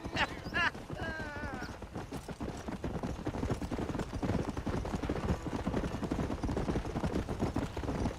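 Horse hooves clip-clop in a quick, steady rhythm while riding in the video game Red Dead Redemption, with a short whinny near the start and the rhythmic hoofbeats continuing under background game sound.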